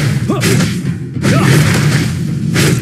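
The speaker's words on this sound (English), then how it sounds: "Our turret has been destroyed." Booming explosion from a destroyed turret in the mobile battle game Mobile Legends, with a couple of heavy crashing bursts and whooshing impacts, loud and close over dense game effects.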